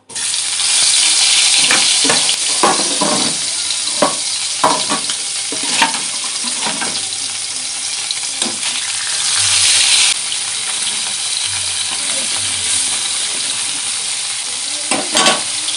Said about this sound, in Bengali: তেল গরম হয়ে গেছে, তারই মাছগুলো ভেজে নেব।